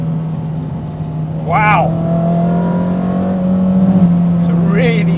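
A Renault Clio 172 Cup's engine drones steadily while driving on Michelin PS3 tyres, rising in a loud rev with a tyre or engine whine sweeping upward; a person speaks briefly over it.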